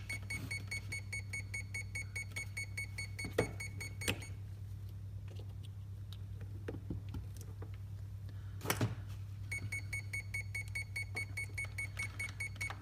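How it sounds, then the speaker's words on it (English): Low-voltage battery alarm on a homemade boat's electric propulsion setup, a rapid steady electronic beeping that runs for several seconds, pauses with a couple of clunks, then resumes, over a constant low hum. "I think that's the low voltage alarm"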